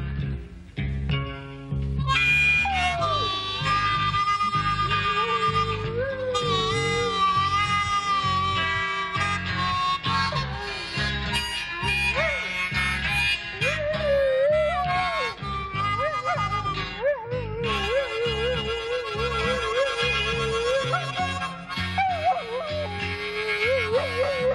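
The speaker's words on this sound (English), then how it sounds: "if I play the guitar or the harmonica, the dog howls" A dog howls along to guitar and harmonica on a blues recording, its wavering cries rising and sliding above the steady band accompaniment in a recurring, loud, mournful line throughout.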